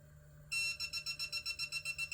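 A propane leak detector in an RV beeps rapidly after calibrating, a quick regular string of high electronic pips starting abruptly and continuing steadily, close and fairly faint.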